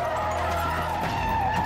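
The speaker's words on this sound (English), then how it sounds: "The truck barrels through the intersections, hitting the black car, which skids out of control into the crosswalk." A black car skids out of control into a crosswalk after a truck hits it at an intersection, a sustained tire squeal with engine noise held at a steady, moderately loud level.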